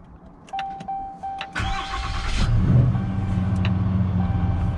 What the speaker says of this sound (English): let's give this a first little startup